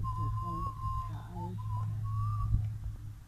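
A person whistles a wavering tune, sliding up and down in pitch, over a low steady hum and faint background murmur.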